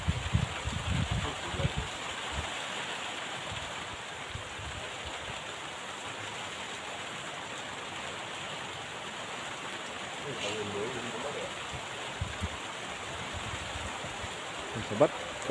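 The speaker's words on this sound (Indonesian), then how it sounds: "Sobat, kelihatannya hujan angin ya teh ya." Steady rain with strong wind fills the space as a dense, even hiss of falling water, moderately loud and continuous, with a few brief knocks and a voice speaking near the start.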